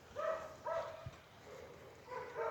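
Miniature Pinscher x Chihuahua puppies yipping at home, three or four short, high-pitched barks in quick bursts, close by and moderately loud.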